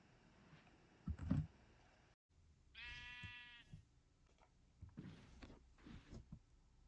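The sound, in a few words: sheep bleating in Minecraft video game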